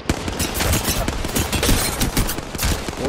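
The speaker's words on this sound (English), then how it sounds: "We're getting shot by the Valkyrie over here." Rapid bursts of gunfire from the Valkyrie character in a ranked video game match, loud and dense, with overlapping shots and impacts crackling continuously throughout.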